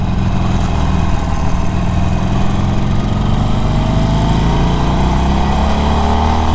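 A 2019 Harley-Davidson Forty-Eight Special rumbles on a test ride, its engine a loud, steady low throb that lifts gently in pitch as it accelerates, with no talking.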